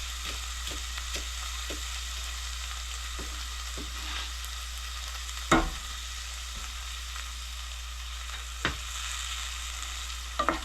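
Green onion frying in a pan on a stovetop, a steady close sizzle with a scatter of soft scraping stirs and a few sharper clinks of the utensil against the pan.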